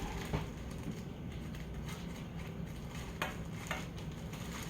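A steady, soft sizzle of bologna frying in a pan, with occasional faint pops and ticks over the continuous hiss.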